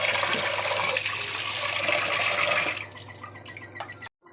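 Rice is rinsed in water in a kitchen, with loud, close sloshing and running water for several seconds that then fades to scattered drips and small splashes before a brief cut.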